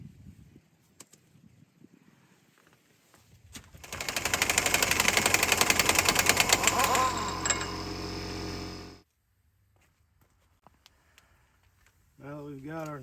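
Impact wrench hammering loose a front hub nut on a 4WD Chevy Silverado, a loud rapid rattling burst lasting about five seconds after quiet clinks, then a voice speaking.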